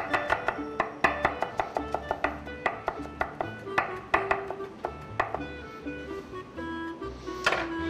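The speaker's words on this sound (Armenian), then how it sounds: "Սխտորը մանր կտրատում ենք" Steady, rhythmic knife chopping of garlic and dill on a cutting board, close and clear with no talk, the quick taps slowing slightly toward the end.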